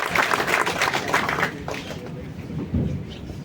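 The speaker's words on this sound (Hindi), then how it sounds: "जोरदार ताली बजाई भैया" Audience applause welcoming a guest at a public event, a dense burst of clapping that fades after a second or so and is followed by a short second flurry.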